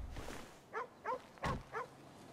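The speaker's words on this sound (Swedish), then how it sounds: "En hund." A dog in the game GTA V barks in four short, evenly spaced woofs, moderately close and alone against a quiet background.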